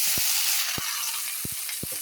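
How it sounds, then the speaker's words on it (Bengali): Steady loud sizzling of okra frying in hot oil, a continuous bright hiss with a few soft knocks of a spatula scattered through it. "তেল গরম হয়ে গেছে, ভেন্ডিটা একটু ভেজে নেব।"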